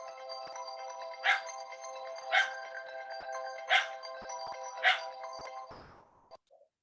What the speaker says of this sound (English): someone's got an alarm ringing